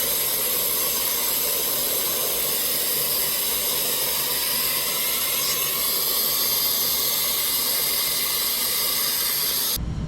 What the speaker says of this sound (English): the pop-off valve would release that steam pressure